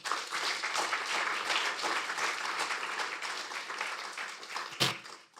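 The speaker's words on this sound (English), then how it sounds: "with a round of applause" An audience at an Indo-French legal and business conference applauds a special address: a steady, moderately distant wash of clapping lasting several seconds, with one sharp louder clap near the end.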